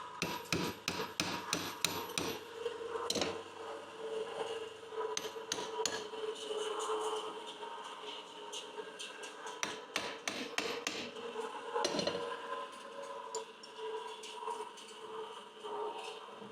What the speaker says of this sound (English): I should just be able to tap them out with a little punch.